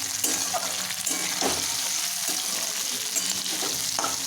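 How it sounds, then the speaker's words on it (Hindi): Vegetables for veg Manchurian frying in a pan, a steady close sizzle running throughout with a few brief stirring scrapes and clicks, no voices. "अब इसको फ्राई होने देते हैं 5 मिनट तक।"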